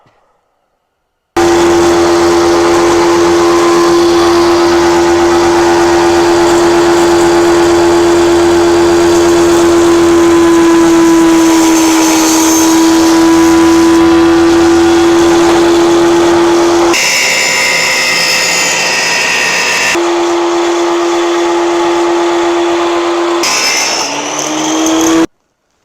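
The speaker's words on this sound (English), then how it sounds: "I'm just going to cut these with the circular saw to make it a little bit easier on myself" A circular saw runs loudly and steadily with a strong motor whine while cutting wood boards for a floating shelf, its tone shifting partway through before winding down near the end.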